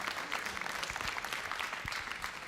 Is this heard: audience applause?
yes